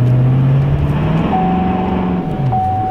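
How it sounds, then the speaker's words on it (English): Chevrolet Silverado Duramax diesel pickup doing a burnout, a loud steady engine roar held at high revs with a rising tone, up close and continuous. "So we're gonna do a burnout here."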